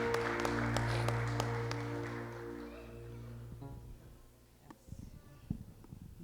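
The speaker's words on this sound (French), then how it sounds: "On acclame pour la sœur." Church congregation applauding during a praise service, sustained clapping alongside a held organ or keyboard chord that fades, leaving scattered claps and murmurs.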